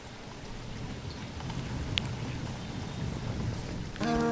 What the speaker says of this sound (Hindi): अच्छी खासी तेज़ी हो रही है बारिश